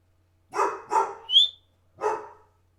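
A dog barks four times, three in quick succession then one more after a short pause, loud and close with no talking.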